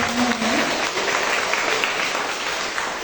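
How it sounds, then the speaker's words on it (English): An audience at a wildlife storytelling competition awards ceremony applauds student participants, a dense, steady wash of clapping that holds evenly throughout with no voices over it. "Let's give them a round of applause."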